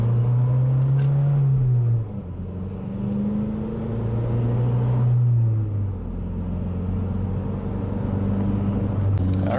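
Cabin noise inside a running Mazdaspeed3 with a steady engine drone that rises and falls with throttle and gear changes, constant low rumble throughout.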